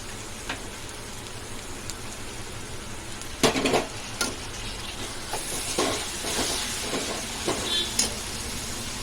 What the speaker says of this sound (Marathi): त्याच्यामध्ये आपण टॅमॅटो टाकून घेऊया